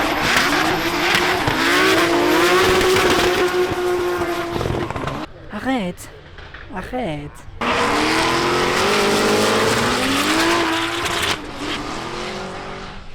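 Drift cars at a drift championship scream past with high revving engines and squealing tires, loud and close, with a short lull in the middle; people talk over the noise.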